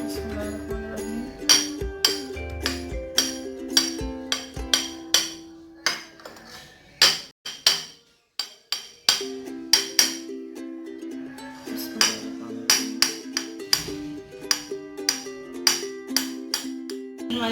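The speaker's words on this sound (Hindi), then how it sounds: "हमारे बनानास की कटिंग हो गई।" A knife chops peeled bananas on a board for creamy fruit chaat, a long run of crisp, close taps, some rapid and rhythmic, others spaced, with a steady tonal hum beneath.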